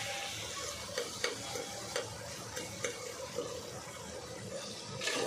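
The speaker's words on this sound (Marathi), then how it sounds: "हा मसाला ना कोळंबी मसाला जरा चांगला फ्राय करून घ्यायचा." Prawn masala frying in a pan, a steady close sizzle with scattered scrapes and taps of stirring throughout.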